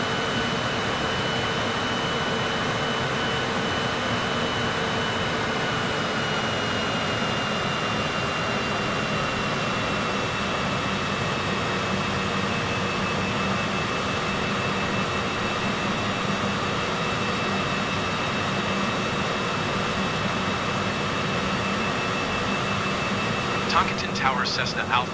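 Simulated Cessna piston engine drones steadily throughout, a continuous mid-pitched hum with a high whine layered on top, fairly loud and unchanging, with a brief click near the end.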